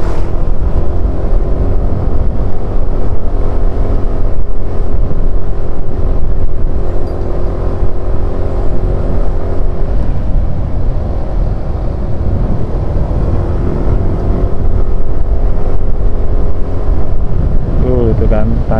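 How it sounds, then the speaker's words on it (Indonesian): Automatic (matic) scooter engine held at steady throttle while climbing a steep uphill mountain road in East Java, a continuous loud drone with wind rumble throughout and no pauses. "ngegas terus ini bolo, ngegas terus, puter gas terus ini karena memang ya tanjakan gitu lah."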